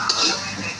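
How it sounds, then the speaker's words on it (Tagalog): Garlic fried rice being turned in a pan, a soft continuous scraping and rustling with light clinks of the utensil, close and steady. "halu-haluin lang natin"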